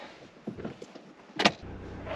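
A 2022-or-later Subaru BRZ or Toyota GR86 is started from cold. A few soft rustles lead to a sharp click, then a low, steady engine idle hum sets in and continues to the end.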